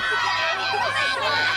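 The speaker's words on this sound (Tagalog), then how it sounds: "Ang iingay ng sigawan ng mga nandito eh." A dense crowd at a university fan event in Bulacan shouts and cheers continuously, many high excited voices overlapping at a loud, steady level close by.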